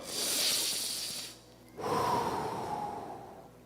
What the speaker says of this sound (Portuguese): Só de você estar respirando